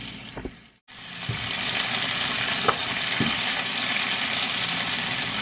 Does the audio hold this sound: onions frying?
yes